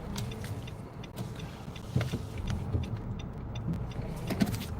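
A car creeps slowly forward while squeezing into a tight parking spot, its engine a low idle hum with scattered clicks and faint creaks close by.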